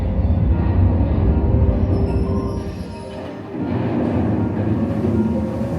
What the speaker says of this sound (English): And here comes the ore train.